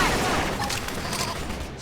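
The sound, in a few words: gunfire in video game Xenoblade Chronicles X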